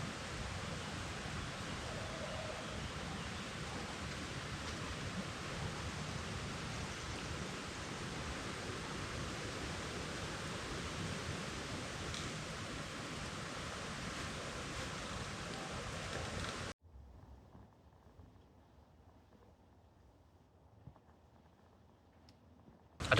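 Woodland ambience caught on a camera microphone, a soft steady wash of breeze and rustle with no voices, fading to near quiet toward the end.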